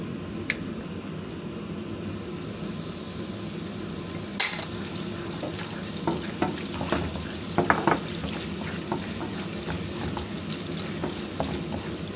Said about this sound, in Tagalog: Yung aking pansit, lalagyan ko na to ng mushroom and carrots.